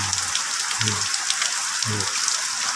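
Heavy rain pours steadily in a garden campsite on Koh Samui, a dense close hiss with faint low bumps underneath.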